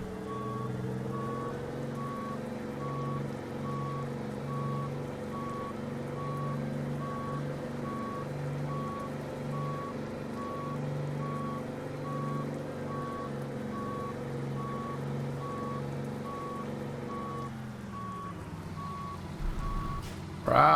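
Truck reversing alarm in American Truck Simulator, a steady evenly spaced beep repeating for many seconds over a low idling engine drone, stopping near the end as the engine note shifts.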